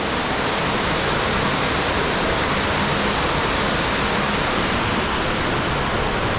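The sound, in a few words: waterfall flowing in a forest cave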